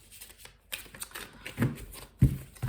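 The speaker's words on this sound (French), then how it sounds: "je prends le tarot Rider-Waite pour un tirage en" Rider-Waite tarot cards are shuffled by hand in soft, quiet bursts of riffling and flicking, the later strokes louder and closer.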